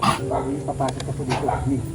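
A dog barks several times in short bursts, mixed with faint voices and background noise, moderately near.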